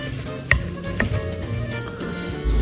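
Glass noodles being stirred into a dumpling filling, giving wet, mushy mixing sounds with a couple of sharp clicks of a utensil against the bowl, close and fairly loud with no talking.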